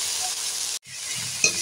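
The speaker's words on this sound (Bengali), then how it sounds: "এর সঙ্গে দিয়ে নাড়াচাড়া করে ভেজে নেব।" Ground coriander paste and a little chili powder frying in a pan while being stirred, a steady close sizzle with a brief break and a scrape of the spatula near the end.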